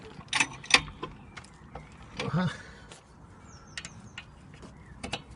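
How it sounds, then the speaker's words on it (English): Car jack being raised under the rear coil spring of a 2003 Mercedes-Benz Vaneo, faint ratcheting clicks and mechanical creaks in a quiet garage, with a brief low rumble partway through. "I'll jack it up a little bit"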